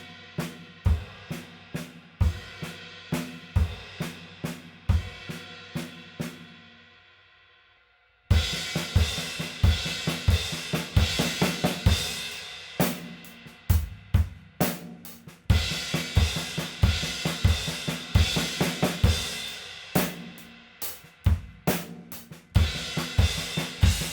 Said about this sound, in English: Now with that combination comes a new challenge, crashing with the left hand.